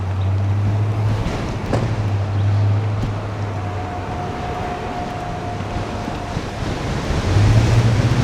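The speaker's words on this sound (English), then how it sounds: "that was a pretty fierce wind I just ended up riding into" Strong, steady wind roars across the microphone while riding through Toronto on Victoria Day, a dense buffeting rush with gusts that build near the end, no talk.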